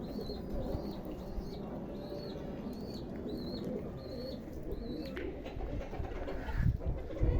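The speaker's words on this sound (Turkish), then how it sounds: "Burada da güvercinler var." Pigeons at a zoo coo in a steady repeating rhythm, about eight soft calls in a row, then quieter rustling and shuffling near the end.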